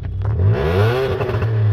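A modified VW Polo's engine revs hard and close, one strong rising and falling throttle blip with crackling exhaust pops and bangs as it drops back, loud and alone without speech.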